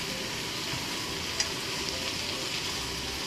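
Pork dusted with potato starch frying in a pan with shimeji and maitake mushrooms gives off a steady, close sizzle with a few faint pops and no talking.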